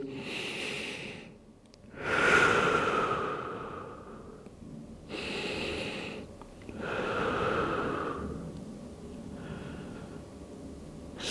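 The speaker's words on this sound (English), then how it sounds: "And inhale, exhale into your child pose" Slow, audible breaths in and out at close range, each inhale and exhale drawn out over a couple of seconds, as someone settles into yoga child's pose in a spinal health routine; no talking.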